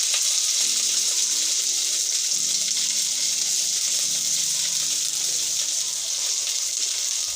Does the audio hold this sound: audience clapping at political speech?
no